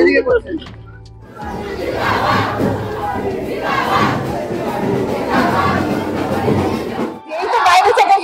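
A large crowd roars and chants together at a film event celebrating the Bengali movie Shwoshurbari Zindabad, loud and sustained, with a brief quiet break before the shouting surges again.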